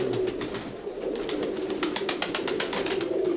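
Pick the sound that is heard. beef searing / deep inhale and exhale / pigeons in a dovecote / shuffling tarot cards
pigeons in a dovecote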